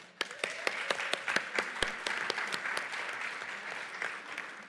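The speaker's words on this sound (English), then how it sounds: "I just want to give them a round of applause right" Applause from an assembly audience at a Métis Nation annual general meeting, many hands clapping in a steady crowd wash with individual claps popping out near the front, fairly distant.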